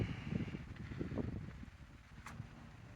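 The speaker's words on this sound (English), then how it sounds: "It's a little windy out here today" Outdoor wind at the former Packard Proving Grounds among trees, a low rumbling buffeting on the microphone that swells and eases, fairly close and moderate, with no talk over it.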